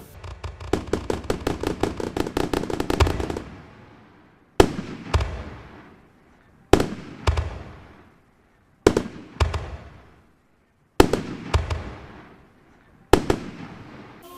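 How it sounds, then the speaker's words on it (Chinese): New Year's Eve fireworks show at Tainan's countdown concert: a rapid volley of crackling bursts, then a series of single loud booms spaced a couple of seconds apart, each trailing off into a fading rumble. "晚会现场，嘛将释放长达3分钟的烟火秀"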